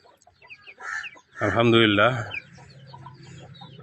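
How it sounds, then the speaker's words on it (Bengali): Farm chickens cluck close by, with one loud, drawn-out squawk in the middle and softer clucks before and after it. Someone speaks briefly over them. "এই ছোট থেকে এত বড় হয়ে গেছে মুরগিগুলো। এগুলো হচ্ছে ফার্মের মুরগি।"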